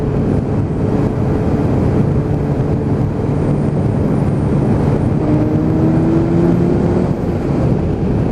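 A big-capacity sports motorcycle, a Yamaha R1 or Triumph Street Triple, pulls past a car under acceleration, its engine drone rising in pitch over steady loud wind roar throughout.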